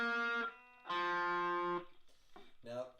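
Electric guitar run through effects plays a quick rundown of the Star Wars theme, with several sustained, bright, distorted notes close and clear, separated by brief gaps.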